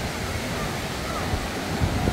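Sea waves wash over the crowded beach at Bombinhas, Santa Catarina, a steady broadband roar of surf with wind buffeting the microphone throughout.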